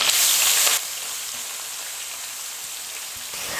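Grated raw mango hits hot oil with curry leaves, giving a loud, crackling sizzle that drops sharply after the first moment and settles into a steady frying hiss.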